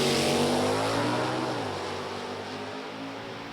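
An Oldsmobile Super Sleeper drag car with a 455 engine roars down a drag strip at a race track, loud and steady, its engine pitch shifting as it passes and begins to fade.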